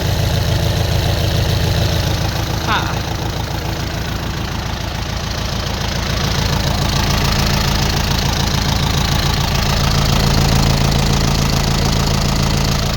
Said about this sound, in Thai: เครื่องยนต์สี่สูบค่ะ